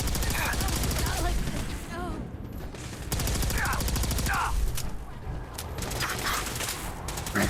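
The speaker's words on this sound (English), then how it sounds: "Shooting me, buddy?" Bursts of gunfire from Fallout 4 combat come in repeated clusters of rapid shots, loud and near, with quieter gaps between volleys over steady game ambience.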